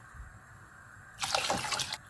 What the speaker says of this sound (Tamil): கொஞ்சம் தண்ணி ஊற்றிக்கிறோம்